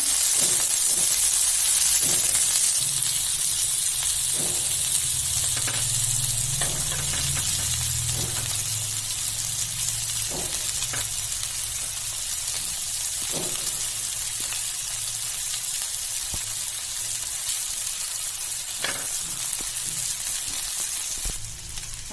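Prawns tawa-fry on a flat griddle with a steady, close sizzle, while scattered sharp scrapes and taps mark them being turned over, and a faint lower bubbling drifts underneath.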